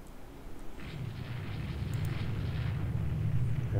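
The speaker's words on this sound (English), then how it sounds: "it's torpedo bombers doing their usual thing. Torpedoing a ship that's already sinking" Torpedo explosions in the naval strategy game Rule the Waves 2, a low rumbling boom that swells and holds as a deep muffled roar, no speech.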